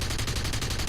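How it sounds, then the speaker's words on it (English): Rapid, evenly spaced bursts of cannon fire from a Ju 87 D-5 dive bomber in a combat flight game, loud and rhythmic over a steady engine drone. "I'm shooting my cannons here just to show you how much this cannon bursts will slow the airplane"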